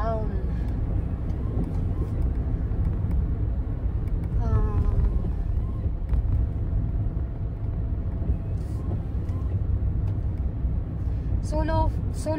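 A car cruising steadily on a long drive to Shimimachi, a continuous low engine and road rumble throughout, with voices talking over it.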